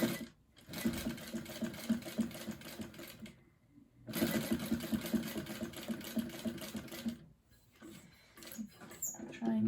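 Sewing machine stitching a straight line along the top long edge of a rectangular zipper pocket for a handmade journal, running in two long steady bursts with a short pause between, then stopping near the end.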